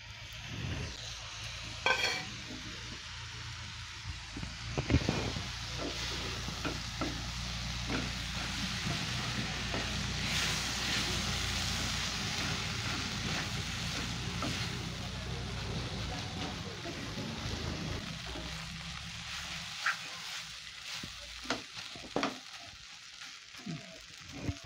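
Fish and motor suti greens stirred and fried in a pan, with scraping stirring strokes and low sizzling plus occasional sharp clatters, with some faint background noise.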